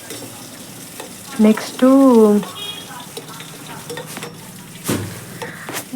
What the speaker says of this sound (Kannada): ಈಗ ಬೆಳ್ಳುಳ್ಳಿ ಹಾಕಿದೆ ಸರಿಯಾಗಿ ಫ್ರೈ ಮಾಡಬೇಕು ಒಂದು ಸ್ವಲ್ಪ ಲೈಟಾಗಿ.